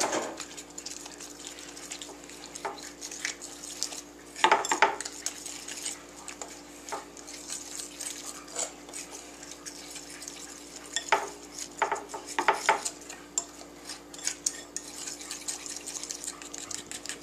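A utensil stirs and scrapes through batter mixed with water in a bowl, with soft wet swishing and a few louder clinks against the side.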